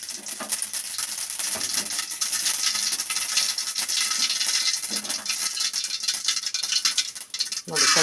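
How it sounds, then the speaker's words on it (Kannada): Chana dal and urad dal hit hot oil after mustard seeds in a pan, producing a dense, continuous bright sizzle and crackle that carries on steadily throughout. "ಕಡಲೆಬೇಳೆ, ಉದ್ದಿನಬೇಳೆ ಹಾಕ್ತಾಯಿದ್ದೀನಿ"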